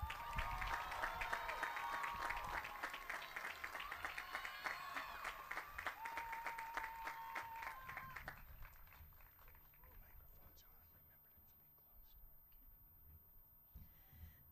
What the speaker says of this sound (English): Please give a big round of applause for Miss Erica Westfall.